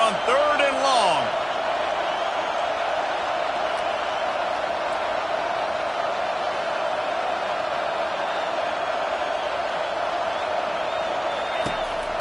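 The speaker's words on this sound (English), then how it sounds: "Man, this crowd really affecting the football game." Steady roar of a home crowd at a college football game in a big stadium, a loud sustained wash of cheering that holds level throughout with a brief whistle-like rise early on.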